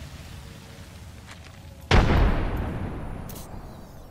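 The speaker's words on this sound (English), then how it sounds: "Grenade out." A grenade explodes in a video game firefight, a sudden loud, close boom whose rumbling blast slowly fades. Faint background noise comes before it.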